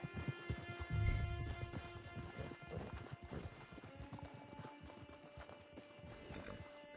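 A horse in Red Dead Redemption 2 clip-clops along near a camp, hooves thudding in an uneven gait, with a brief whinny early on over a low ambient game backdrop.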